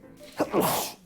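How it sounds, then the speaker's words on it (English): A single sharp sneeze from a person reacting to dust in a room, loud and close, preceded by a brief inhale. "Oh, he's sneezing too."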